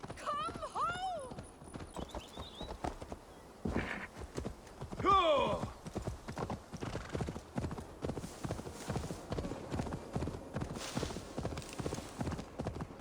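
Horse hooves clip-clop steadily through open terrain in Assassin's Creed Valhalla, with an occasional whinny, over in-game ambience and someone talking throughout.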